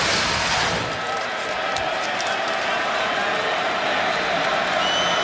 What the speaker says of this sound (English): So now the crowd into it.